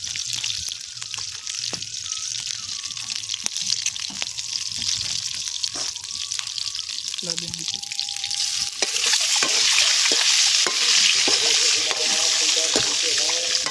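Desi chicken eggs fry in a pan with a soft sizzle and occasional utensil clinks and scrapes. The hiss grows louder and fuller partway through and then stays steady.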